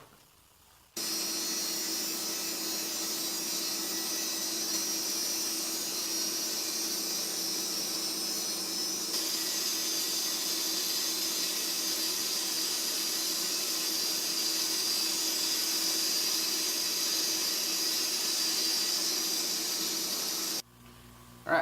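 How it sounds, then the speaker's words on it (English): A bandsaw runs steadily for about twenty seconds while cutting a tapered, curved wooden table leg profile, giving a constant close whirring hiss with no talk, starting and stopping abruptly. "so all the bandsaw work is done"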